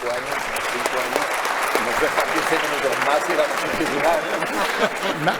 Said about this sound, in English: Let's give them another round of warm applause.